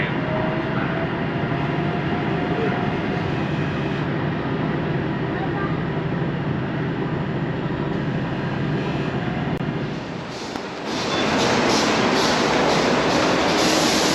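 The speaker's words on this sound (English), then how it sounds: "I am on the train." Steady rumbling of a train travelling in Malaysia, heard from inside a carriage as a continuous broadband roar that shifts to a brighter, hissier rush near the end, with speech mixed in.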